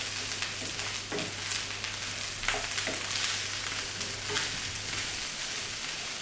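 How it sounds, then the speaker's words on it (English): Eggs and rice sizzle steadily in a hot pan while being stirred for egg fried rice, a continuous close frying hiss with occasional soft scrapes of the utensil. "you're just going to stir the eggs through the rice"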